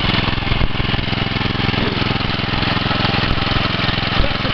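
Engine of a deep well drilling rig running steadily after start-up to warm up, a loud, even mechanical drone with a regular low throb, heard alone without talk.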